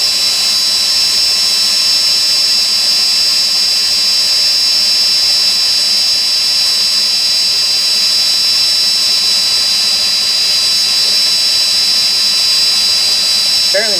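A cordless drill on a weakening but freshly charged battery twists single-core wire for a Clapton coil, giving a steady high motor whine close by for the whole stretch.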